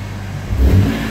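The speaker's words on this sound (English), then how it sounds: "Quick couple revs here." A 2004 BMW M3 convertible engine revs sharply in a brief burst, a deep throaty rise and fall, close by.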